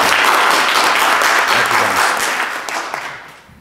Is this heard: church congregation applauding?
yes